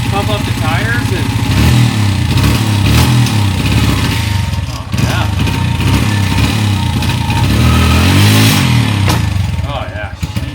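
A 1990s Honda XR100 dirt bike, a revived project bike fed with fresh gas, runs close by with a loud, buzzy single-cylinder idle that revs up and down several times.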